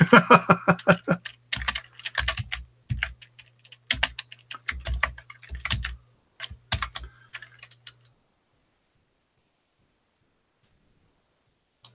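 Computer keyboard typing in quick irregular bursts of clicks for about eight seconds, close and clear, then silence.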